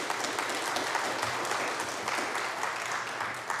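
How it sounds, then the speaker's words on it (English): Applause from an audience at an evening speaker series, a steady mass of clapping hands holding at a constant level for the whole stretch, with nothing spoken over it. "Let's give them a big round of applause."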